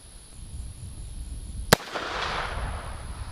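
A single sharp gunshot from a .44 caliber black powder revolver converted to fire .45 Colt smokeless cartridges at a shooting range, loud and close, with a brief echoing tail under steady background noise.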